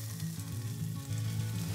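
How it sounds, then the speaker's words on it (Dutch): Sea scallops frying in a pan with very little fat, giving a steady, close, even sizzle that runs throughout without pause. "Zo, kijk, we gaan dat gewoon bakken."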